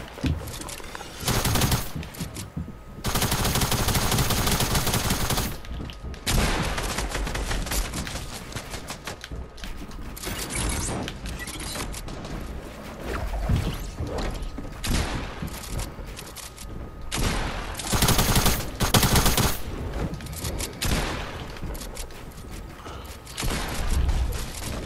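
Heavy, sustained gunfire rattles through a Fortnite zone wars match, with loud, overlapping bursts and mechanical building clatter continuing almost without pause and no voices.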